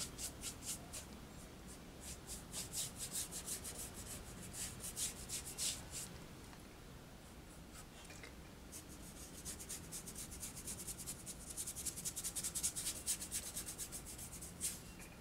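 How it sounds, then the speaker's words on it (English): A paintbrush scrubs burnt sienna paint onto canvas with quiet, continuous rubbing and scratchy strokes, a soft dry rasp that keeps going at a fairly even pace, with no talking. "scrub it in there, just scrub it in there."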